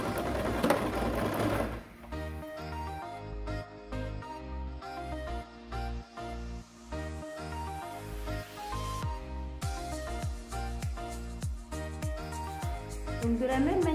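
A sewing machine runs close and clear while stitching pyjamas, a fast mechanical whir of needle strokes in several runs with brief stops for forward and reverse stitches, and a voice is briefly heard at the start.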